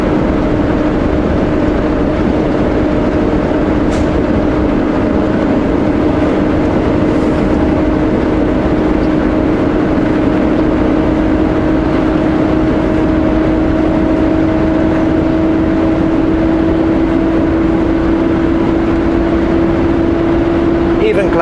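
Truck engine droning steadily as it climbs a grade on the Coquihalla highway, a continuous loud hum with a slight rise in pitch near the end, without clear gear-shift breaks.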